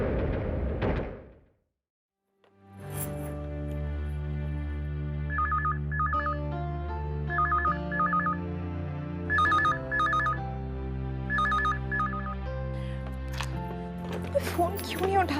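A telephone rings in repeated bursts over a sustained musical score, the rings coming in evenly spaced pairs at moderate volume.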